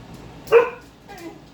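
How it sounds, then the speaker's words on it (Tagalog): A single excited bark from a pet dog, fairly close and brief, followed by a fainter second yip with a quiet room behind it. "Masaya yung aso guys kay may tao."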